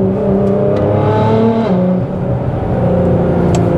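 A car engine revs with its exhaust valves open, a loud, close, rasping drone whose pitch swells and dips across several throttle changes, with no voices.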